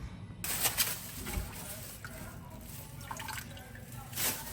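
Water splashing and dripping softly as fish is washed, with faint sloshing and handling noises, quiet and close, with no voices.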